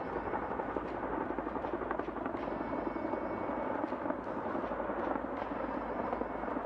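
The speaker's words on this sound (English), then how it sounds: "Mi-17 upgrade helicopter moving into the battlefield for winch operation." An Indian Air Force Mi-17 upgrade helicopter flying over a battlefield during a military exercise demonstration for a winch operation, its rotors making a steady, continuous thudding drone at moderate distance.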